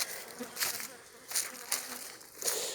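Agitated honeybees buzzing in several swelling bursts, a busy drone that rises and falls close by, with no talking.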